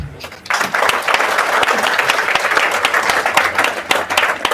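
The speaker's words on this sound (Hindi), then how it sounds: "ताली बजा दीजिए" An audience at a business motivational talk claps in response to a call for applause, loud continuous crowd clapping that swells in after a brief quiet start and holds steady.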